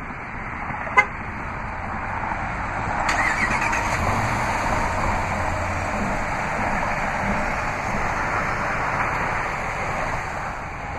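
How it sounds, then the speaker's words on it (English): A 2015 RAM 1500 Rebel Crew Cab 4X4 pickup started by remote start: a brief chirp, then the engine catches and settles into a steady, fairly loud idle rumble that continues alone. "Just double press the remote start button on the key fob."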